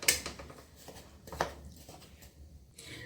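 Spoon scraping and clinking in a pan while 250 grams of broken jaggery melts over medium flame, a few light metallic taps and soft scrapes at close range, quiet and intermittent.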